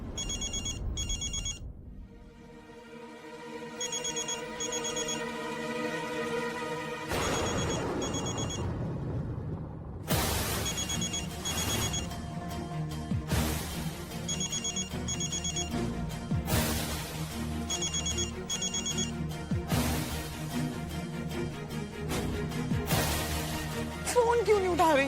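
A telephone rings repeatedly and goes unanswered, with bursts of electronic ringing separated by short gaps across a long stretch, and faint background sound between the rings.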